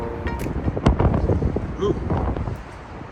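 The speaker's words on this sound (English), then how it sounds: "The wind was vicious." Strong wind buffets the microphone outdoors in Chicago, a loud rumbling gust throughout while a person briefly exclaims.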